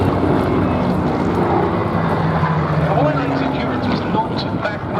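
A pair of Hispano Buchon fighters, Spanish-built Messerschmitt Bf 109s, fly over an airshow at Duxford, giving a steady, sustained piston-engine drone with broad wind noise, moderately distant and continuous throughout.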